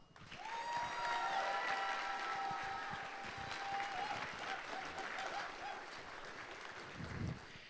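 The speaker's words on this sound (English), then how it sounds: "So, give them a round of applause." A crowd claps steadily for several seconds, a dense, moderately loud round of applause that holds even before tapering slightly at the end.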